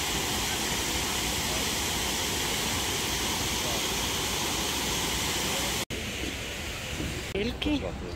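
Close, steady hiss of a rushing, turbulent waterfall fills most of the moment, broken by a short dropout, after which the water noise continues slightly quieter with faint rustling handling sounds.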